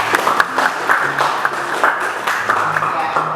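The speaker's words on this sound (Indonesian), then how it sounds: "berikan aplaus untuk kelompok 3" Classroom applause for a student group, a scattered round of clapping from a small group of people, with a voice talking over it.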